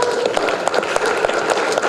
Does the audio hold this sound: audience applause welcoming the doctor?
yes